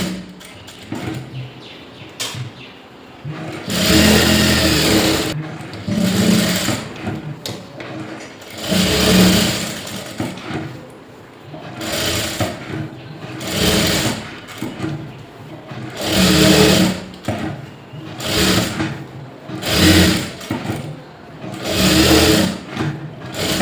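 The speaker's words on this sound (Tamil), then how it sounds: "ஒரு ஜிக்ஸாக் போட்டுட்டு அப்புறமே தையல் கொடுங்க." A sewing machine stitches a blouse lining, first in zigzag and then in straight stitch. It runs in repeated bursts of whirring with brief pauses between them, loud and close, with no talk.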